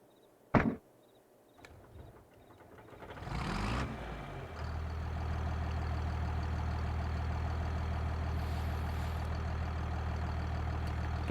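In Farming Simulator 22, a sharp clunk and a couple of clicks come first, then a tractor engine cranks up and settles into a steady, loud, rumbling drone that carries on to the end.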